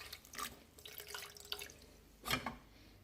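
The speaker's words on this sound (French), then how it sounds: "je recouvre un peu d'eau" Water poured over 100 g of sugar for caramel, a faint, close splash and trickle in a few short bursts, the last one briefly louder.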